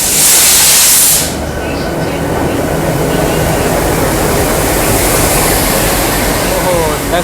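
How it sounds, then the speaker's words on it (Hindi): A WDM-3D ALCO diesel locomotive idles at a station, its low rumble under a loud, continuous hiss like rushing air or steam, opening with a brief bright high-pitched burst. "सामने लगा हुआ है WDM-3D एल्को लोकोमोटिव।"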